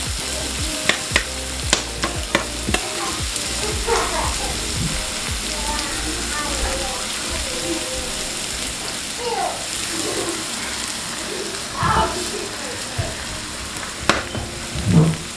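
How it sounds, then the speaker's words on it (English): Ground seasoning sautés in hot oil in a pan for a tin mackerel and dumplings dish, giving a steady loud sizzle with occasional clinks and stirring scrapes, and no talking. "So I'm just gonna let this saute for a minute."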